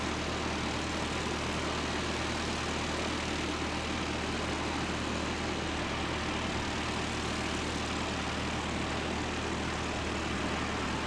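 Airliner departing Christchurch Airport in New Zealand, a steady broad jet roar with a low rumble that holds for the whole stretch without clear rise or fall, with no voices.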